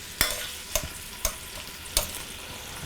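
Sausages fry in a pan for Cajun jambalaya, a steady sizzle broken by four sharp knocks and scrapes as they are turned, each a distinct clack at roughly even intervals, close and fairly quiet.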